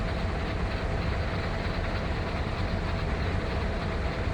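An ex-Conrail GP38 diesel locomotive, number 5290, rolls past close by with a steady, loud rumble of engine and rail noise that holds evenly throughout, with no voices.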